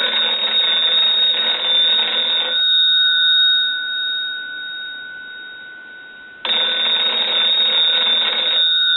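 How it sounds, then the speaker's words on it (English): Bell of a Western Electric 329 wooden wall telephone ringing in two loud, sustained rings, each about two and a half seconds long, with a quiet pause between them. "we'll go ahead and ring the telephone."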